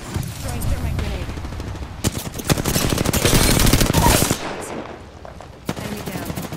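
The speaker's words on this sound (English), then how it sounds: "The enemies are shooting at me." Rapid automatic gunfire in Apex Legends, with dense bursts of shots building to a loud sustained volley mid-clip, then dropping off before a final short burst, with voices talking underneath.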